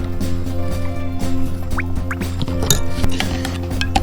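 A spoon stirs salt into vinegar in a glass with quick, bright clinks against the glass over a steady background hum, close and fairly loud.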